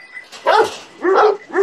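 A handsome dog with a fine coat barks three times in short, loud, close bursts with brief pauses between them, and no talking over it.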